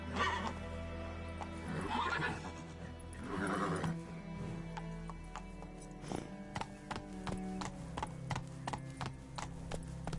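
Horse hooves clip-clop in steady rhythm as a rider travels on horseback in The Witcher 3 video game, with a horse whinny early on and game ambience beneath; no voices over the hoofbeats.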